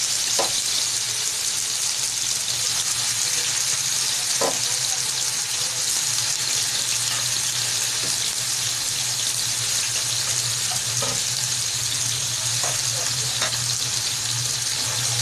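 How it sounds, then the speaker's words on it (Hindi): Chicken fries in a pan over low heat for a sandwich, a loud, constant close-up sizzle with occasional soft clicks of stirring. "सबसे पहले चिकन फ्राई करेंगे"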